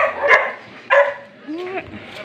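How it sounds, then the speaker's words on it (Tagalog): Dogs bark and yip from nearby in a dark alley at Christmastime, a few separate barks and a whimpering whine, with people talking over them. "daming aso dito."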